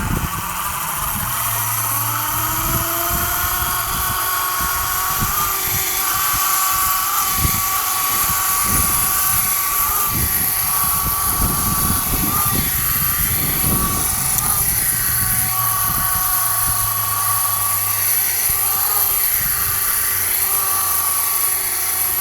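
A small RC helicopter spins up and flies, its steady high-pitched motor whine shifting in pitch as it climbs and moves around, loud and close throughout with no talking.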